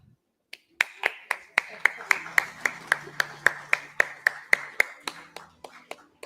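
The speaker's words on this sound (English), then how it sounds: "Can we have loud applause, please?" At a medical panel event, a small group claps in a slow, even rhythm, about twenty sharp, distinct claps in a quiet room rather than a dense ovation.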